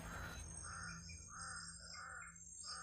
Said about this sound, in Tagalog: Mayroon pa talagang mga uwak dito.